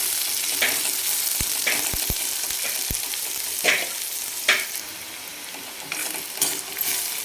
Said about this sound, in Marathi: जिरे छान चटकले की एक मोठ्या आकाराचा कांदा आपण टाकायचा तेलामध्ये आणि चांगला नरम होऊ द्यायचा आहे 2 ते 3 मिनिट।